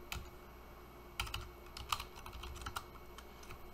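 A computer keyboard is typed on at a Windows PowerShell prompt, giving quick, close, irregular key clicks in a short burst with brief pauses, alone without talk.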